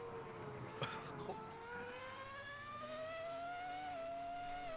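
A race car engine in the Assetto Corsa racing video game at Virginia International Raceway revs and climbs through the gears in a rising, steady whine, with a brief clunk near the start and no speech.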